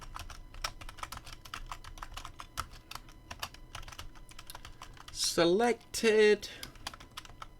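Rapid, steady clatter of keys on a computer keyboard as code is typed, close and crisp, with a short spoken word breaking in near the end.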